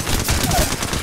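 Rapid gunfire in Apex Legends rattles off in a quick, loud burst of repeated shots over a single second, close and punchy.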